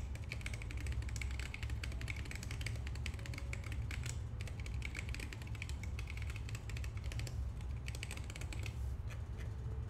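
Steady, fast typing on a computer keyboard fitted with replacement keycaps, a dense run of close, crisp key clicks continuing for the whole stretch with no talking.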